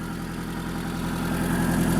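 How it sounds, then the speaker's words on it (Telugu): A Maruti Zen car engine idles steadily nearby, a smooth, even hum with a faint low rumble and no other sounds. "ఇంజిన్ కూడా ఇంజిన్ బీటింగ్ కూడా చాలా బాగుంది"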